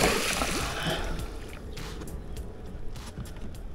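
Small carp and crucian carp are let go back into a river, with a brief splash and water disturbance at the start, then fading lapping and light movement nearby.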